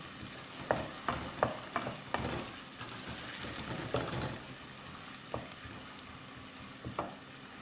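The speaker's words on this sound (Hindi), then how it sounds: "इसे मैं इतना कुक करूँगी कि लहसुन अदरक का कच्चापन ख़त्म हो जाए" Garlic and ginger paste cooks in a pan for chana daal, a soft steady sizzle punctuated by a series of spoon taps and scrapes against the pan.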